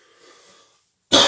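A single sharp, loud cough from someone with a cold bursts out suddenly after a quiet stretch of faint background hum.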